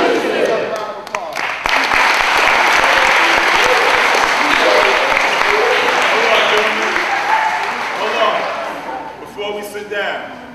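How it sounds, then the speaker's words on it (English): Sustained applause from a crowd of students at a school assembly, loud and dense clapping filling the room for about ten seconds before thinning slightly toward the end. "Another round of applause."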